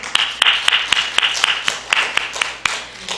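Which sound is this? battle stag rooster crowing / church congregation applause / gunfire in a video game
church congregation applause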